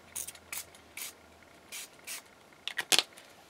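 Several short bursts of aerosol spray, quick hissing puffs spaced irregularly, close by with a quiet background.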